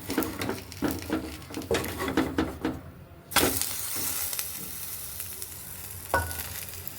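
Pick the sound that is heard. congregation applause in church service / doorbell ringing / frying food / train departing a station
frying food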